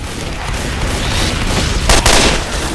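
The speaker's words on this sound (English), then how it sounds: "Stop bombing us!" Bombing blasts and rapid gunfire roar through a co-op video game battle, a dense, loud barrage with a sharper burst near the end.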